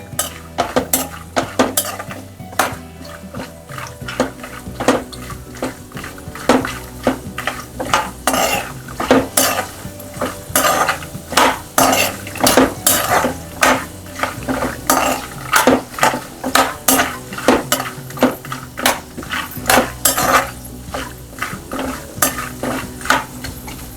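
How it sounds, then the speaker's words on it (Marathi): Dry coconut pieces fry in a pan over a minimum flame, with a steady run of sharp metal spatula clinks and scrapes against the pan over a soft sizzle, close and fairly loud throughout. "मिनिमम फ्लेम ठेवलेली आहे मी, कारण हे खोबरं आपलं व्यवस्थित फ्राय व्हायला हवं."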